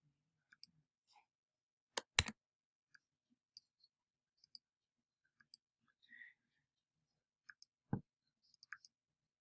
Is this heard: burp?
no